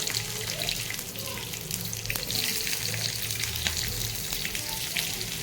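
Onions fry in a pan with a dense, steady, hissing sizzle that carries on throughout at close range, broken by faint occasional clicks and no talking.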